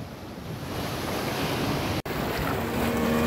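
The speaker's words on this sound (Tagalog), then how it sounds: "laki na ng lukulakataw ng alon" Big ocean waves crashing near a seaside cave, a continuous loud roar of surf mixed with wind buffeting the microphone, with a brief dropout midway.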